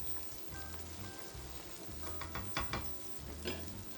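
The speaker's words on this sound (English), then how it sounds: "saute our shallots just for a little bit, not so long, because they don't need so much time to be cooked" Shallots sautéing in a pan give off a steady close sizzle and crackle, with a few stirring scrapes and louder pops near the middle.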